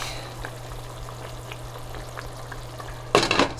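Food frying in a pan in a home kitchen gives a soft, steady sizzle over a low hum, with a brief louder clatter near the end.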